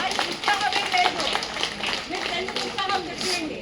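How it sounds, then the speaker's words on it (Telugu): An audience at a school alumni gathering welcoming teachers to the stage breaks into scattered clapping, with a person talking over the applause throughout. "చప్పట్లు గట్టిగా కొట్టడానికి మేడం అంటున్నారు."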